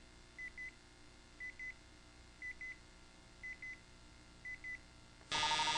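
A game show buzzer sounds loud and abrupt as time runs out, ending a countdown of five evenly spaced paired electronic beeps.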